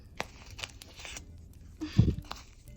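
A few soft crinkles and rustles, then a short sharp tearing rip as a plastic packet is torn open, fairly close and quiet.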